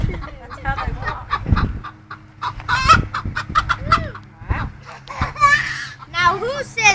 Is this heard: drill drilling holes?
no